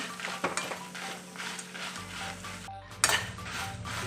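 Garlic cloves roasting on a low flame in a pan while a utensil stirs them, giving a soft steady sizzle with scraping and clinking against the metal and a brief louder clatter near the end.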